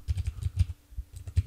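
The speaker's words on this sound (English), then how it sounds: "So go ahead and type in the domain of your website above" Quick bursts of keystrokes on a computer keyboard as a website domain is typed in, clustered clicks with brief pauses between them, close and clear, with no voices.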